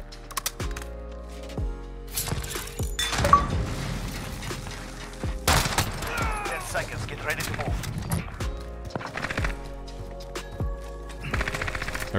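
A Bruen rifle firing tracer rounds in Modern Warfare's Warzone lets off repeated bursts of loud automatic gunfire with sharp mechanical clatter, while a voice talks over the action.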